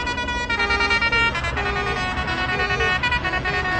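Air horns blare a melody at a farmers' protest, loud repeated blasts of tonal honking in a rhythmic pattern, close and continuous, over a low background of crowd and traffic.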